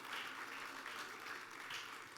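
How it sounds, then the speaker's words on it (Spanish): A church congregation claps together, giving a steady, dense wash of applause that carries evenly through the whole stretch without any voices standing out. "Denle palmas a Cristo y póngase de pie, por favor."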